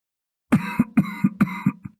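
A person coughs from black smoke in a narrated audiobook scene: four harsh, close coughs in quick succession, each with a sharp onset and a rough tail, then a brief trailing catch of breath.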